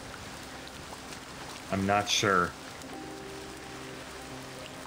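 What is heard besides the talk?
rain in Escape Simulator video game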